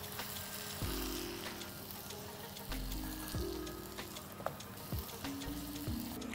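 Squid masala being stirred and mixed in a hot pan, a steady soft sizzle with periodic scraping clicks of a spoon, close and fairly quiet.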